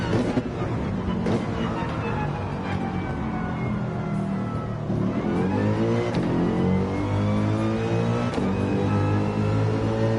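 Mercedes-AMG race car engine in the Gran Turismo 7 racing game, revving hard and climbing through gears with sweeping pitch rises and shifts, loud and continuous throughout.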